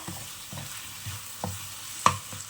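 Prawns sauté in a hot pan, and a spatula stirs them in five or six evenly spaced scrapes and knocks. The strokes sit over a constant sizzle, and the last knock near the end is louder.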